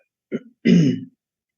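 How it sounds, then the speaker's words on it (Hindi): A man clears his throat and coughs, one short rasp followed by a longer, harsher throat clearing, close and loud against silence. "मुझे ना खांसी हो रही है।"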